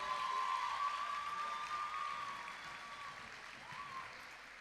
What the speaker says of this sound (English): Another round of applause for Andrew Forsyth.